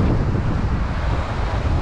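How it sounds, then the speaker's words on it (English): Strong wind and surf pound the shoreline during pole fishing on a Hawaiian coast, a loud steady roar of gusts and breaking waves with no pauses and no talk. "I think that's a lot of wind and waves."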